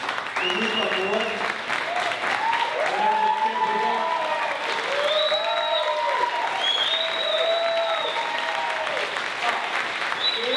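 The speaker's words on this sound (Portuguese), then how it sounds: "Para aplaudir a Andréia, por favor." Audience at a talk at a São Paulo theatre school applauding steadily and fairly loudly, with voices and shouts mixed into the clapping throughout.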